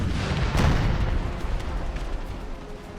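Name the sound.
heavy Union artillery fire in an American Civil War video game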